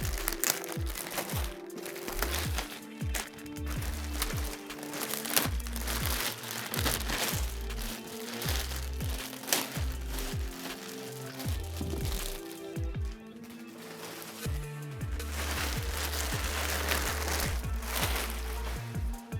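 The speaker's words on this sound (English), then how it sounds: "But I left the wrap on so we can unwrap it, right?" Plastic wrap being crinkled, torn and pulled off a newly assembled Graphtec FC9000 54-inch plotter, a dense run of crackling and crunching that continues nearly without pause and sits up close.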